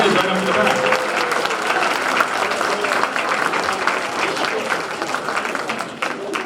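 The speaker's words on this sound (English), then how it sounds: "Give him a round of applause" An audience at a St. Patrick's Day celebration in Boston gives a round of applause, steady dense clapping that fills several seconds, loud and sustained with a slight taper near the end.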